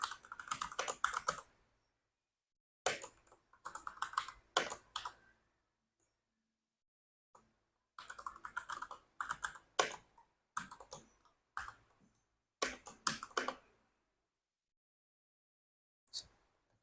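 Bursts of typing on a computer keyboard as overtime hours are entered into a program. Quick clusters of crisp key clicks alternate with silent gaps, close and clear, with no talking.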